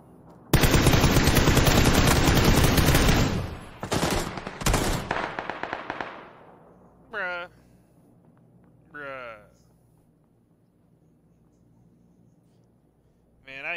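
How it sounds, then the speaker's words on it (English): Video game gunfire aimed at the ground: a long, loud, dense burst of rapid automatic shots, then a few shorter bursts that trail off into quieter game sounds, with a voice briefly talking. "what are you doing shooting at the ground for"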